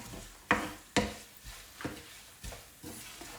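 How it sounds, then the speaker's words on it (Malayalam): Turmeric powder stirred in a pan over a low flame for mango pickle, with about six scraping strokes at an uneven pace, each a near, soft swish that fades quickly, alone without talk. "പയ്യെ ഒന്ന് ഇളക്കി കൊടുക്കുക."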